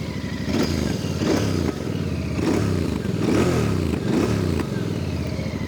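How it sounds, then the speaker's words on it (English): A Royal Enfield Bear 650 twin with a 2-in-1 exhaust idles close by, giving a loud, raspy, steady thrum with a few small blips of throttle and no talk. "I quite like the way this motorcycle sounds"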